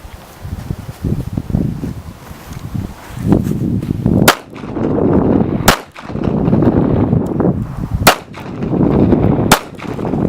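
Gunshots fired at fall-away targets on a shooting range at a defensive training center, four sharp loud cracks spaced a couple of seconds apart over rustling wind noise, with no talk.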